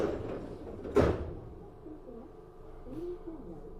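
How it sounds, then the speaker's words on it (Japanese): Tokyu 7700 series commuter train doors closing at a station, a sharp thud of the doors meeting followed by a low rumbling hiss and faint chime-like tones, heard from inside the carriage without talk. "扉が閉まります。"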